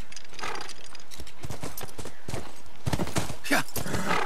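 A horse in The Last of Us video game clops along in a quick uneven rhythm, close and fairly loud, with a whinny near the end and some voice-like sounds mixed in.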